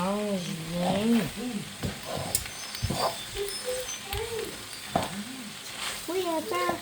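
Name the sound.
stirring food frying in a pan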